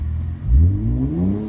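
Infiniti Q60 with a modified, fully open exhaust revving briefly, a deep loud rumble climbing steadily in pitch over a second and a half, heard from inside the car.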